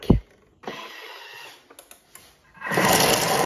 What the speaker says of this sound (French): Donc là, je vais mixer 5 secondes. Vitesse 5.